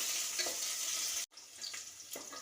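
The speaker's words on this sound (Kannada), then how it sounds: "ಬ್ರೌನ್ ಕಲರ್ ಆಗೋವರೆಗೂ ಸ್ವಲ್ಪ ಫ್ರೈ ಮಾಡ್ಕೊಳ್ಳೋಣ ಆನಿಯನ್ನ" Onion and mint leaves frying in a pan, a steady close sizzle with soft stirring, broken by a brief silent gap before the sizzle resumes with occasional scraping.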